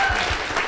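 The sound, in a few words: audience applause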